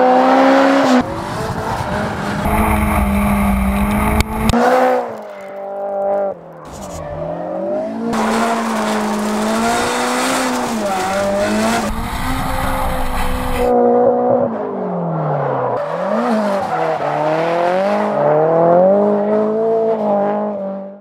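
A drift car slides around an airport at Cootamundra, New South Wales, its tires squealing loudly and continuously over a revving, rising and falling engine for about twenty seconds, close and intense.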